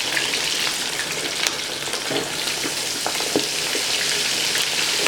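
Turkey wings with no flour crackle and sizzle steadily in a basket of hot oil in a deep fryer, a dense, loud, continuous frying hiss with scattered pops.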